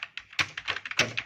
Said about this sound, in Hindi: जैसे मैं टाइपिंग कर रहा हूँ, रुकना नहीं है, ऐसे ही आप टाइपिंग आप कंटिन्यू